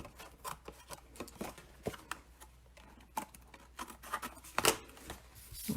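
Scissors trimming stamped paper card pieces for owl punch art, a run of soft, close snips and crisp cuts at an irregular pace with light paper rustling and no talking.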